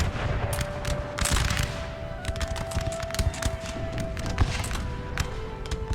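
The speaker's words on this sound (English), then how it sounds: "That was artillery there." Artillery fire and musket volleys in Napoleon: Total War, a steady wash of battle noise with dull distant thumps and scattered sharp cracks over a constant low rumble, with no clear single boom standing out.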